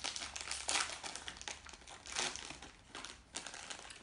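Crinkly bag of Snacks-brand chips being opened by hand, close, sharp crackling and crumpling plastic in several bursts.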